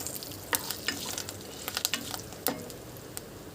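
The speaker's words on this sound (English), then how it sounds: "Adding in the fresh curry leaves. Adding in half teaspoon of hing. Just mix it lightly." Cumin seeds, fresh curry leaves and hing crackle and sizzle in hot oil for a tadka, with light stirring adding scattered sharp pops and scrapes close up, steady frying hiss throughout and no voices.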